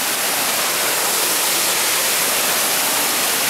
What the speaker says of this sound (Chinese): 清景泽的白丝瀑布，现在飘着大雪